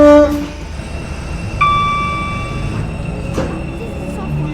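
Class 456 two-coach electric train running in a railway video game, with a brief two-tone chime and a steady low rumble of the unit moving along the line, no voices heard.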